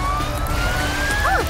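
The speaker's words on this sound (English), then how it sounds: "Amber, the ambulance is here." A siren wails steadily over a running engine, its pitch slowly rising, with a brief warbling sweep at the end, close and loud.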